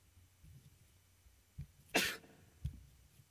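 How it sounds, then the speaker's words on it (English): A single sharp, high-pitched cough or sneeze in the horror game Ib, one brief burst standing out from a quiet background with a couple of faint low thumps around it. "that sounded like either a really, really high-pitched cough or a sneeze"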